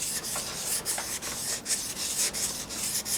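Hand sanding of primer and spot putty off a plastic body panel of a 1985 Honda Gyro scooter, with rhythmic back-and-forth abrasive rubbing strokes, close and steady, no voices.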